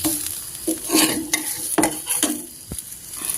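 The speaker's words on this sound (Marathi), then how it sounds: "थोडंसं भाकरी छान भाजून घ्यायची भाकर छान भाजलेली उलटून घेऊया" A bhakri flatbread roasting on a hot griddle, soft sizzling under a few scraping, stirring-like knocks and clicks as it is handled and turned, close and fairly quiet, no talking.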